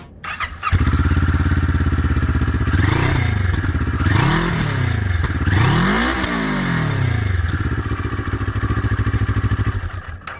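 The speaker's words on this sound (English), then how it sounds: "Speaking of power and sounds, let's have a listen to its shorty exhaust." A CFMOTO 400NK motorcycle with a short exhaust blips and revs several times, rising and falling in pitch over a loud, throaty idle, close by.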